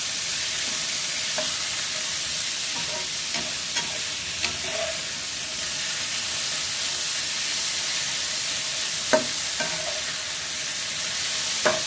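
Marinated pork stir-fried in a pan gives a constant loud hiss and sizzle, broken by scattered light scrapes and taps of a spatula.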